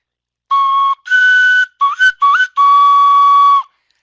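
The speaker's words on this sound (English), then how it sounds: "I also have this lovely little chicken whistle" A small chicken whistle sounds in five clear, close blasts, some held steady and some sliding upward in pitch, each separated by a short gap.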